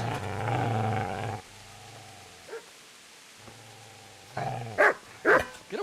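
In the medieval video game Kingdom Come Deliverance, a dog gives a few loud, sharp barks near the end, after stretches of low droning ambience.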